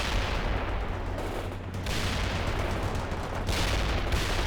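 Sustained battlefield gunfire from the real-time strategy game World in Conflict, a dense, continuous roar of shots with a couple of brief lulls, loud and steady throughout.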